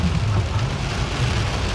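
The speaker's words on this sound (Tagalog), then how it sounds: "Ang lakas ng ulan, no?" Steady, dense rain hiss with a low rumble underneath, continuous and fairly loud throughout, with no voices.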